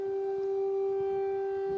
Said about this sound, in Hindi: ये हवाई हमले के सायरन्स जो इस समय सुनाई दे रहे हैं कीव शहर में